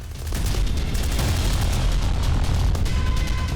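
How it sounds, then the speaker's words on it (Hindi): Dense gunfire and booming blasts from the Afghanistan–Pakistan conflict crackle together in a loud, continuous rumble, with sharp individual cracks standing out near the end. "गोलियां चल रही हैं"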